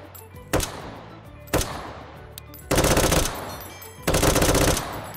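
Bursts of 7.62 rifle fire in the H3VR virtual reality shooter: two single sharp shots, then two longer rapid automatic strings, loud and close with no talking.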